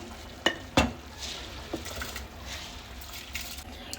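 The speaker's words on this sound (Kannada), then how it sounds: "ಇವಾಗ ಇದೇ ಟೈಮಲ್ಲಿ ನಾನು ಇದರೊಳಗಡೆ ಅಕ್ಕಿನ ಹಾಕೊಳ್ತೀನಿ" Rice poured into boiling chicken water in an open pressure cooker while making chicken biryani: two sharp clinks near the start, then a soft, steady rustling and bubbling wash, close and fairly quiet, with no talking.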